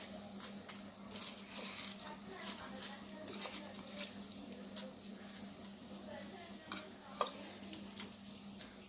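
Mutton with ground curry leaves is stirred and sautéed in a pan, with soft scraping and light utensil clicks under quiet speech and a low steady hum.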